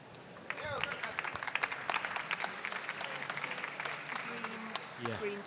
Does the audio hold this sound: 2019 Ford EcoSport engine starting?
no